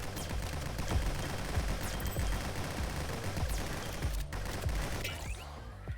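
Rapid gunfire rattles in the Nimrods video game, with dense bursts of shots and sharp cracks firing continuously over busy game ambience, loud and up close, without speech.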